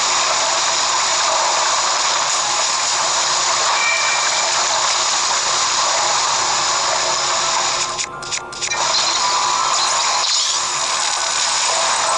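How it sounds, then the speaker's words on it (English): Steady broadband rush of a waterfall in the video game Zelda: Breath of the Wild, constant and full, with a brief dip partway through and no talking. "Now I got a waterfall that I can swim back up."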